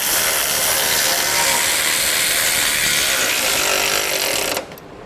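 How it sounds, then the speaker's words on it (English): Nut plates on a Blue Ox base plate kit are snugged and torqued on a 2011 Chevrolet HHR with a loud, steady power-tool rattle. It runs close and unbroken for over four seconds, then cuts off abruptly. "we're going to snug them down and then get these torqued as well."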